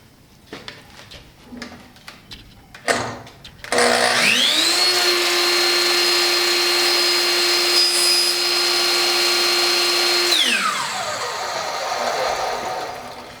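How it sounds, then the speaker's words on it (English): A power saw blade plunges into the workpiece and runs steadily for about six seconds, a loud sustained whine that winds down as the cut stops, with a few knocks and handling sounds before it starts. "bring the saw blade down, stop the cut right where it meets the other cut"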